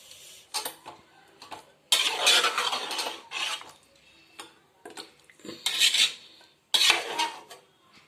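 Fish curry (chapala pulusu) in a metal pot swirled by hand, giving bursts of clattering, scraping metal-on-metal rattles in several separate pulses, fairly close and with no talking.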